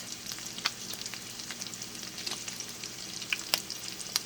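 Beef steak fries in a pan with a steady close sizzle and crackle, broken by scattered sharp spatters and pops, and no voices over it.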